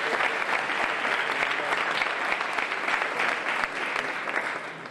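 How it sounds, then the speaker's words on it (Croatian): A big round of applause sweeps through a live stage audience, with dense, even clapping close and loud that eases slightly at the end. "Evo, molim vas jednim velikim pljeskom."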